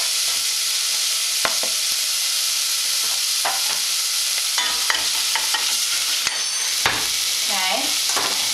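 Chopped onion and garlic fry in a hot pan for a lasagna sauce, a steady close sizzle broken by stirring scrapes and a few sharp utensil clicks, with no talking.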